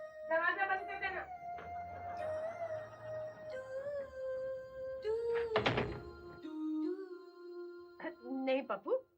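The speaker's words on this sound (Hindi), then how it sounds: "दरवाजा बंद कर देना।" A door pulled shut with a dull thunk inside a house at night in a Hindi TV family comedy scene, heard amid background music and tones, with voices nearby.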